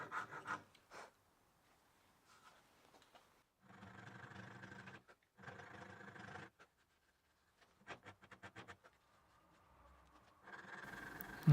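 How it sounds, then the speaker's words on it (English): A half-round rasp scrapes into a wooden guitar neck volute in several separate bursts of rough, gritty strokes, each a second or two long, with quiet pauses between them. "I'm going to begin carving that in with a half-round rasp"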